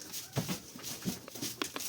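Hoof steps and shuffling of two mares in a farm stall, a few soft irregular thuds close by over a quiet barn background with small rustles.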